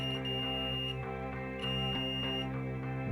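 A multimeter in continuity mode beeps while probing a Philips monitor circuit board, a steady electronic tone with brief clicks as the probes touch different components, close and clear with no talk.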